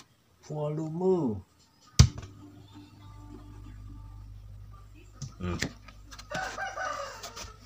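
An active speaker fed through its RCA input gives a sharp click and then a low, steady electrical hum that persists for several seconds, with someone talking before and after it.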